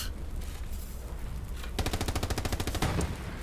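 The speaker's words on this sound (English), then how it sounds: "Did they just shoot Terry?" Gunfire in the video game Hell Let Loose during a competitive tournament match: a rapid, steady burst of machine-gun fire breaks out midway over a low battlefield rumble, fairly distant and moderately loud.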